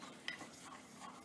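A spoon scrapes and stirs gochujang into a spicy Korean sauce in a pan, a faint soft sizzle underneath and a light clink of utensil against metal.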